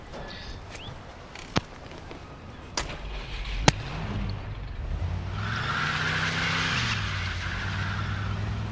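In the Mafia II video game, a car engine revs and accelerates while tires skid and a few sharp bangs crack out, the motor note rising and shifting under a growing hiss of road noise.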